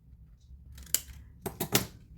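Scissors trim excess card close by: one crisp snip, then a quick run of three sharp cuts, quiet otherwise.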